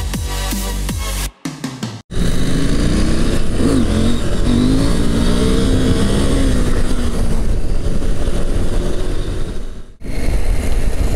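A Husqvarna Norden 901 motorcycle engine revs loudly on a test ride through terrain and road, a sustained close roar with rising pitch and a couple of abrupt cuts between throttle bursts.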